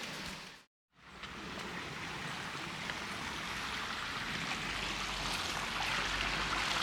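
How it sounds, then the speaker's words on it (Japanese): A usually dry river beside a garden in Switzerland runs full after heavy rain, giving a steady, broad rushing hiss that drops out for a moment near the start, then continues evenly and slightly louder. "庭の横に、 川が流れているんですけれども"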